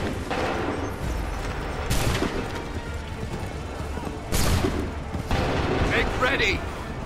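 Musket volleys in Assassin's Creed 3, a few loud crackling bursts of massed gunfire spaced seconds apart over a noisy battlefield background, with shouted voices.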